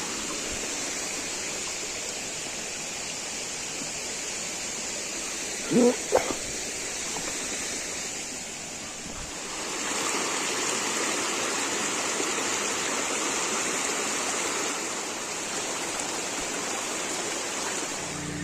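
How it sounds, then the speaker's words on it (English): Water rushes steadily over a small waterfall in the Belfast Hills, a constant wash of noise with a brief thump or two partway through. "And that is a nice wee waterfall."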